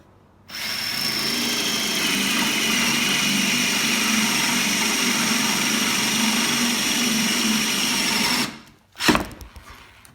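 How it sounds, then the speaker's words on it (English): A Festool PDC 18 cordless drill whines steadily at high speed boring a Forstner bit into hardwood for about eight seconds, close and loud, then stops abruptly with a brief clunk and rattle. "we'll flip it over to drill, and here we go"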